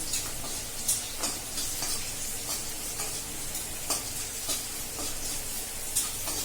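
Onions frying in oil in a pan, a steady dense sizzle with occasional louder pops and crackles, close and alone.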